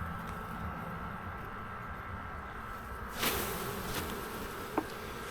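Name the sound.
honey bees buzzing around hive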